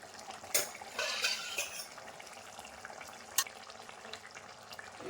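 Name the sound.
katla fish potol posto gravy bubbling under lid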